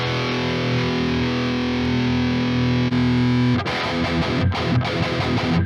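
Distorted electric guitar played through an angled 57 cabinet impulse response, loud and close: sustained heavy chords ring out, then give way to a tight, choppy palm-muted riff.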